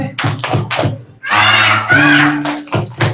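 Young preschool children at a Quran memorization graduation clap and chant the Tepuk anak soleh rhyme in unison, with loud group voices and rhythmic claps in close bursts that swell into sustained shouted phrases.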